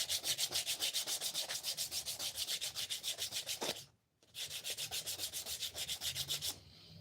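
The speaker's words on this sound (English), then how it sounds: "I tend to try to sand with the grain" Wood being sanded by hand with the grain, a steady rhythmic back-and-forth rasp of rapid strokes, close and loud, broken by one brief pause before the rubbing resumes.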